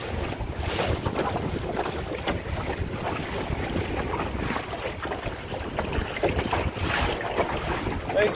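A Shellback sailing dinghy running in strong wind across big rolling waves on the beam, with continuous gusty wind buffeting the microphone, water rushing and slapping against the hull, and occasional louder splashes.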